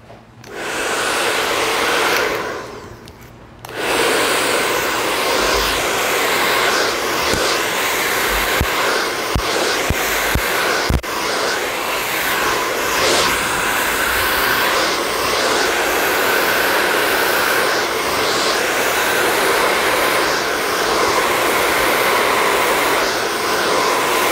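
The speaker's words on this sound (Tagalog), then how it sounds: "Okay na, blower tayo." A hair dryer blow-drying long layered hair in a salon roars steadily and loudly, with a brief dip early on as it is moved or switched, then a continuous whoosh with a few faint clicks.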